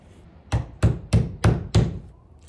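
Five sharp, evenly spaced hammer blows drive nails into a shed frame with a short, choked-up grip, loud and close with brief ringing decays and no talking.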